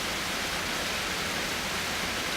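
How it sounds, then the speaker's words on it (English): A nearby waterfall roars in a steady, dense rush of broadband water noise, close and unbroken throughout with no voices. "We are currently all the way back by this waterfall."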